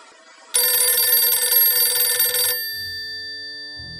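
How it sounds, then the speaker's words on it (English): A telephone bell rings loudly and steadily for about two seconds, a dense continuous electric ring that then cuts off into a quieter lingering tone and low rumble. "Just then, the phone rang."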